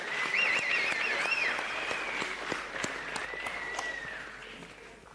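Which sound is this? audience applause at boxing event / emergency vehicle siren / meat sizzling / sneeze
audience applause at boxing event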